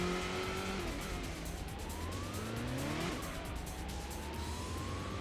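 Race car engine in Gran Turismo's Grand Valley circuit, a steady loud drone with pitch sweeps as it slows and shifts entering the pit lane, tire noise and a passing-car whoosh layered throughout.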